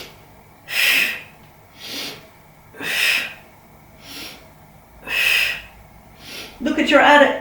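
Heavy, rhythmic breathing during a leg-lift workout exercise: five loud, breathy exhales spaced about a second apart, close and clear, ending in a burst of rustling.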